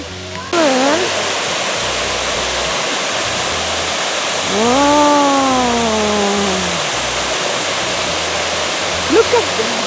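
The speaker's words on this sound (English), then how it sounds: "Amazing waterfall!" A waterfall pours in a steady, dense rush of water that fills the scene, with a few voices and sliding vocal exclamations heard over the constant roar.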